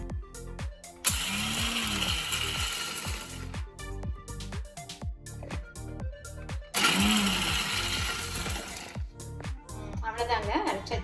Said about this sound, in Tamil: மிக்சியில் இதை போட்டு ஒரு 2 செகண்ட் அரைச்சிட்டு வந்துடலாம்